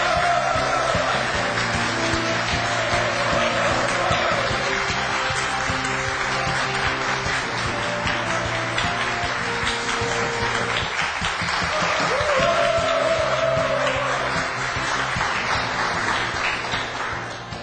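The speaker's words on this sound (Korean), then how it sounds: "힘찬 박수로 맞이해 주십시오" A lecture audience gives sustained, even applause to welcome a guest speaker, a dense wash of clapping lasting throughout with no pause.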